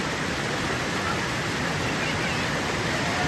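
A large waterfall in rural Konkan with children bathing in the pool below, heard as a steady, dense roar of rushing water filling the whole clip without a break.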